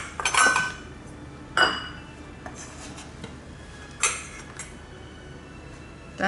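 Pots, pans and cutlery clink and scrape in a kitchen while buckwheat noodles are being cooked. Irregular metallic knocks and clatters come close by, with quiet handling noise between them.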